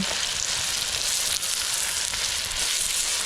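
Uzbek plov frying in a large kazan with meat, salt and seasoning, a dense, even sizzle that stays loud and close, with a brief dip as it is stirred.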